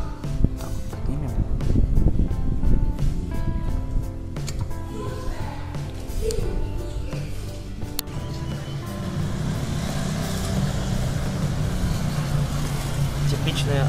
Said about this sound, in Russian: Азия. Куча мотоциклов.